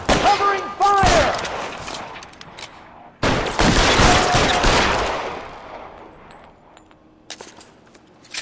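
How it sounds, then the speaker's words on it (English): Gunfire in a shootout in the L.A. Noire video game: dense bursts of rapid shots crack in two heavy volleys, the second trailing off into scattered echoing reports, with shouted voices in the mix. "Covering fire!"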